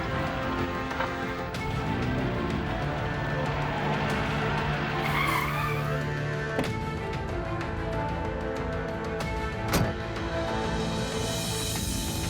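A car pulls away with tires skidding and squealing, a sustained engine and tire roar with sharp knocks and thuds scattered through, fairly close and without talk.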